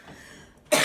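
After a quiet, faintly humming pause, a single sharp cough bursts out close and loud at the very end.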